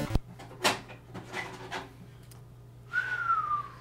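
Someone blows into an NES cartridge, producing a short rising whistle after a few thumps and breathy puffs, close and fairly loud with no talking.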